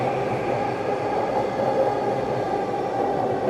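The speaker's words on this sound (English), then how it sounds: "There goes the SkyTrain right now." A Vancouver SkyTrain passes by the station, heard as a steady, fairly loud broadband rumble and whoosh that holds evenly throughout with no talking.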